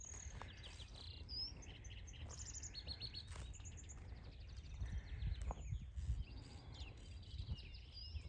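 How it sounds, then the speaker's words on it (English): Morning birdsong above the Lampasas River on a rural property: several birds chirp and trill at a middle distance, repeated short calls over a low steady outdoor rumble, with no talking. "Birds out singing this morning."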